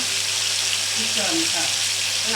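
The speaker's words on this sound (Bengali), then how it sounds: "মাংসটা ভাজার জন্য তেলের মধ্যে ছেড়ে দিলাম" Meat dropped into hot oil for a roast gives a loud, dense, steady sizzle and crackle across the whole short stretch, with a low hum beneath.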